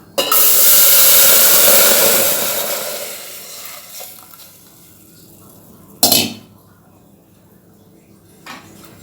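Palm jaggery syrup poured into a pan while making black urad dal kali gives a loud, rushing hiss that slowly fades, followed by a single sharp metallic clank and a faint later knock.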